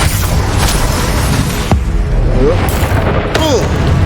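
A Confringo fire-blast spell explodes in Hogwarts Legacy combat, a sharp boom cutting through a constant wash of battle noise, followed by whooshing spell effects.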